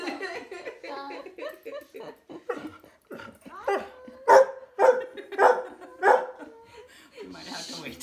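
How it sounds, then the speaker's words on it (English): Dogs bark in a run of loud, sharp barks mixed with whimpers, close by, over and between a person talking in a home sewing demonstration. "We might have to wait till the dogs don't bark."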